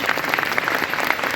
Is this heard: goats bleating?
no